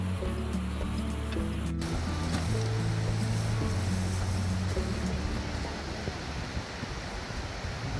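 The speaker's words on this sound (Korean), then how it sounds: "역시 물소리가 들리니까 청량하고 좋다" Steady broadband water rush of a mountain stream along the Seonjae forest trail at Odaesan in late autumn, continuous and fairly loud throughout with no talking, a few low tonal hums mixed in.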